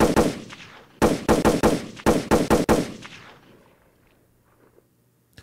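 Gunshot sound effects played on a podcast: an opening burst, then two rapid volleys of sharp, loud shots in quick succession, followed by fading echoes and near silence.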